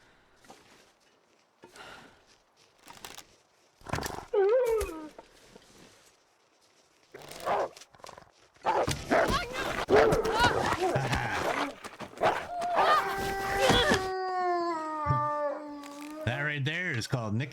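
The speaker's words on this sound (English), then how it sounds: "That sounds like a wolf." A wolf in The Long Dark survival game howls near the end, a rising sustained wavering cry that follows sparse thumps, footsteps and a burst of louder noise, with talk over parts of it.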